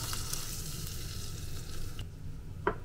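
Swordfish pieces sear in a pan with a dense, even sizzle that continues without a break, ending with a short scrape or clink near the close.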